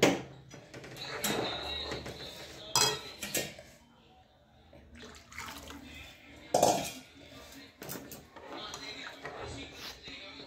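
Masala being stirred into hot water in a cooking pot on the stove for dubuk vada, with metal spoon clinks and scrapes against the pot coming in bursts, fairly close and moderately loud, with some talk in the background.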